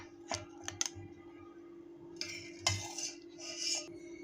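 Metal spoon clinking against a bowl while lifting gulab jamun out of sugar syrup, a few quiet scrapes and taps, close and faint over a steady background hum.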